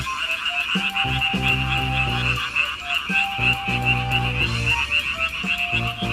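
A chorus of frogs in the city at night croaks loudly and continuously, with overlapping rhythmic calls over a steady high insect-like trill.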